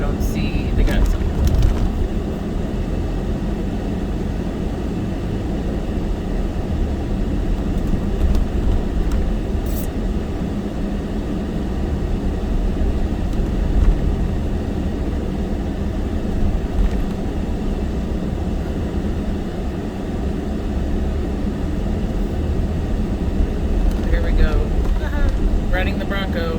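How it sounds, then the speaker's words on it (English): Steady low road rumble and engine drone from inside a Ford Bronco on the road, continuous and fairly loud throughout, with faint talking underneath. "Riding the Bronco"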